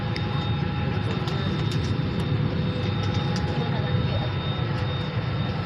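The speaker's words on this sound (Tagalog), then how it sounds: "umaatras na po ang eroplano na sinasakyan namin ngayon" Steady low cabin rumble and engine hum inside a passenger airplane as it reverses on pushback, a continuous even drone with faint higher whine, no distinct events and no clear talk over it.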